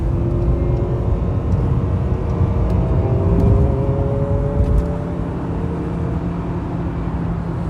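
A Toyota Celica running rough cruises on the freeway, heard from inside as a loud steady engine drone with road rumble and a faintly wavering pitch, no talking.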